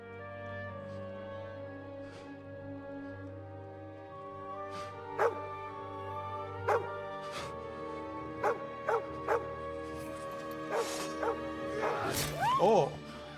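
Dog whimpering and yipping in Kingdom Come: Deliverance II, a few short sharp cries rising over sustained game music, with a louder cluster of whines near the end.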